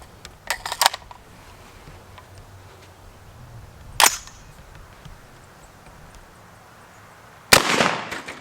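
A .50 Beowulf rifle firing 350-grain Hornady XTP hollow points at a Kevlar helmet produces sharp, loud reports: a quick cluster of cracks early, a single shot mid-clip and a final blast with a short ringing tail, over faint outdoor hiss.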